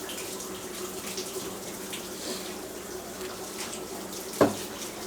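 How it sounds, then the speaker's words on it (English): Water pours into a newly planted aquarium up to the soil level, making a steady soft trickle and splash at close range with one brief louder splash near the end. "we're going to put water in"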